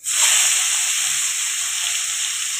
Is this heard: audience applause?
no